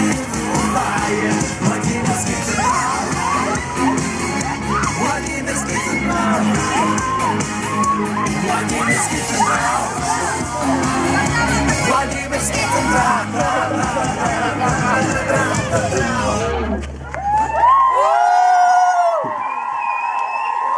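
A large audience shouts, whoops and cheers loudly and continuously in a dense, close roar before it cuts off abruptly near the end.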